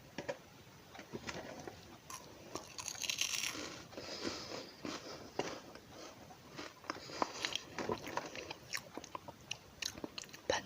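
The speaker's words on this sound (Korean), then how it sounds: "바닐라 맛이라서 되게 바삭바삭하시네요." Close, crisp crunching bites and chewing of vanilla-flavored mini wafers, a steady series of sharp crackly crunches at a quiet level with no talking.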